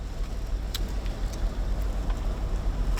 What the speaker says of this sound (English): You can tell that something's going on underneath the car. It's graunching and grinding about.